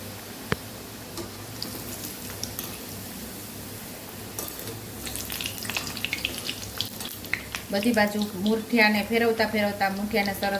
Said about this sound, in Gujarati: ફાસ્ટ ગેસ ઉપર જ આપણે તળશું નહીતર તેલ પકડી લેશે તો આપણા લાડુ સારા નહીં થાય